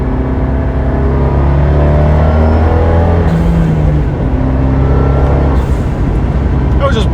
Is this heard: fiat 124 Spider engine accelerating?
yes